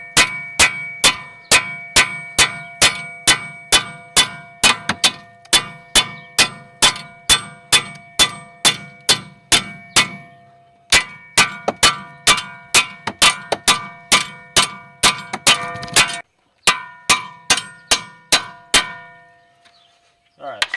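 Ball joint bolts on a Pontiac G6 are struck again and again with a hammer, giving loud, ringing metallic clangs in a steady rapid rhythm with brief pauses, close by in a garage.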